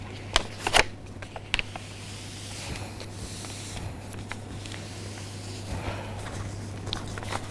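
Sheet of red paper being folded by hand, heard as soft close rustles and a few sharp crinkles near the start, then quieter handling, with no talking.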